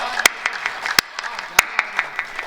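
Scattered claps and short bursts of applause from a Hindi kavi sammelan audience during a poetry recital by Ashok Bhati, sharp uneven hand slaps with no steady rhythm and a faint voice underneath.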